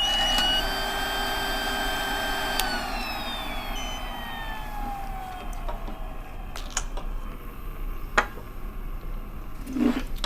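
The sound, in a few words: PAPR air blower running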